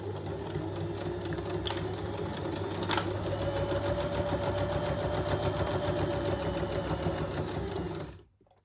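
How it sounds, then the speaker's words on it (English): A sewing machine runs a steady straight stitch along a paper pocket, its continuous motor hum and fast needle clatter holding evenly for about eight seconds before stopping abruptly. "And now I'm going to sew this pocket on. I will use a straight stitch for this."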